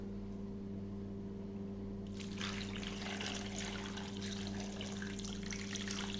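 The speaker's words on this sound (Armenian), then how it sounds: "Վրեն ջուր կաբելացնենք։" Water poured over chicken in a cooking pot, a soft continuous splashing and trickling that begins a couple of seconds in and continues steadily, faint over a low steady hum.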